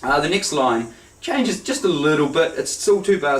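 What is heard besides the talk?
No distinct noise like a dog, phone or traffic.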